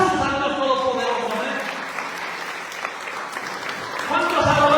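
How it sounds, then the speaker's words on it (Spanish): Standing congregation at a church service claps for God under an amplified preacher's voice, steady applause filling the middle, with talk overlapping at the start and end. "Ponte de pie, dale aplausos al Dios Todopoderoso."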